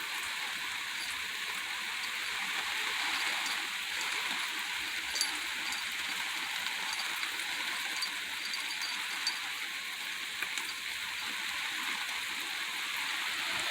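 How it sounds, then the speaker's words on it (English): Steady soaking rain falling on surfaces during a Texas drought, a continuous even hiss with scattered close raindrop ticks, no voices. "This is a good rain because it's really soaking everything down."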